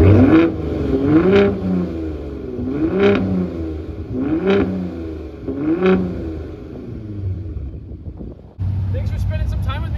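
A 2021 Ford F-150 Raptor engine idles close by and is revved five times in a steady rhythm, each rev rising and falling quickly, before settling into a rougher idle at the end.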